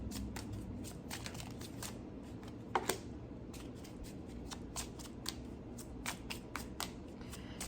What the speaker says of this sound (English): So let's shuffle cards, pull cards out.